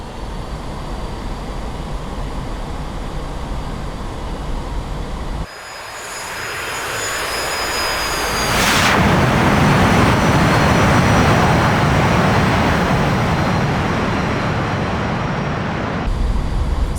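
A single-engine warbird aircraft in the DCS flight simulator runs up and takes off, its propeller engine droning steadily, then surging louder and rougher after a cut as it accelerates down the runway.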